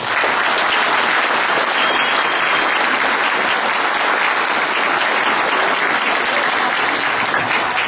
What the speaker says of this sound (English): Everybody, big round of applause for Tom Gibbons.